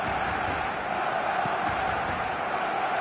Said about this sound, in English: the crowd have tried to spark some excitement, but to no avail